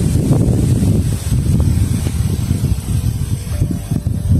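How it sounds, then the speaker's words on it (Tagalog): Strong wind buffets the microphone in a loud, continuous low rumble that gusts and swells for the whole few seconds, with no other clear sound above it. "Malakas ang hangin ngayon."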